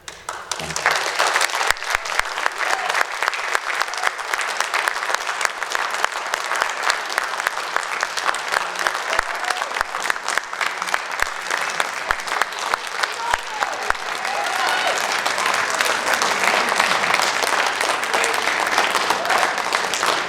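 A live festival audience applauds after a talk, dense sustained clapping from a large crowd that swells slightly toward the end, with faint voices mixed in.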